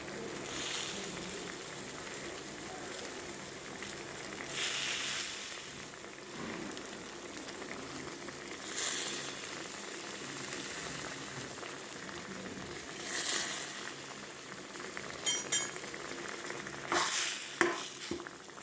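Fish roasting on a banana leaf in a frying pan: a steady, soft sizzle and crackle runs throughout, with occasional stirring scrapes and a few sharper clicks near the end.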